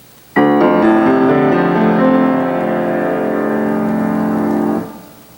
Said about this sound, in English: the same chord in Beethoven might sound like this